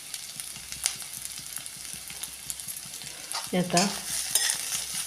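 Steamed potatoes being stirred and sautéed in a pan for a fasting-style potato bhaji, a steady sizzle with scraping spatula strokes that grow louder near the end, with a brief spoken word.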